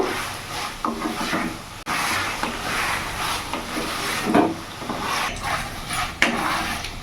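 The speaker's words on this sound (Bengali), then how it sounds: "ভালো করে আমি কিছুক্ষণ নাড়াচাড়া করে নেব।" Fried mushrooms are stirred in a hot pan. A steady close sizzle runs throughout, broken by repeated scraping and knocking strokes of the spatula.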